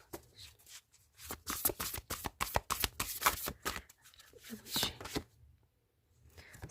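A tarot card deck being shuffled up close, with a rapid run of crisp riffling flutters and papery slaps over about five seconds, then a brief pause and a final few card sounds.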